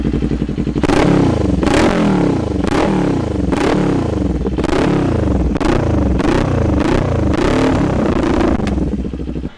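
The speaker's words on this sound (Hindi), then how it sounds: "तो मैं एग्जॉस्ट का साउंड सुना देता हूँ आपको।" A Kawasaki Ninja 400 motorcycle's exhaust is revved up close and loud, with repeated sharp blips rising and falling in pitch over a throbbing idle, roughly eight bursts in a row with no talk.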